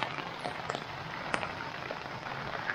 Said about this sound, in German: wo die ganze Zeit jetzt Regen drauf, diese ganzen Flüssigkeiten vom Himmel runterfallen und da drauf klatschen